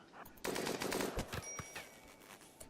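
Turrets fire during a raid in a video game, sending rapid bursts of gunfire and machine-gun rattle with sharp individual shots that trail off into scattered pops.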